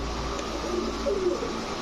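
A green-eyed female long-distance racing pigeon gives a soft, low coo up close, a short rolling call over steady background hum, with no talk.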